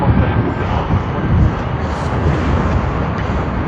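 A Qantas Boeing 787 arriving at Sydney Airport from Melbourne gives off a loud, steady broadband jet roar that stays dense for the whole stretch, with no voices heard.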